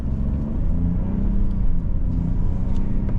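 A 2025 Ford Bronco Sport Heritage with the 1.5-litre turbo three-cylinder pulling away from a stop, a steady low engine rumble building gently under road and cabin noise, with no talking.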